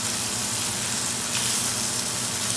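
Beef burger patty sizzling steadily in a hot pan just after being flipped, a loud, close, continuous hiss and crackle with no talk over it.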